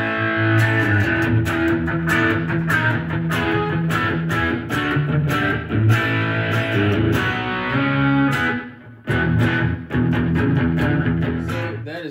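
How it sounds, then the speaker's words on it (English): A heavily distorted electric guitar through an OMG 80s-style distortion pedal plays chugging, gritty chords with a crunchy, saturated tone, continuous and loud with brief pauses between phrases. "The OMG is kind of my 80s distortion."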